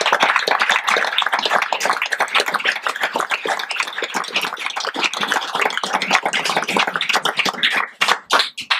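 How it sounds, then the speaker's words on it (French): Audience at a live stage show gives dense, steady applause that fills the space for several seconds, then thins into a few separate claps at the end. "Je tiens à vous lui faire quelques petits applaudissements."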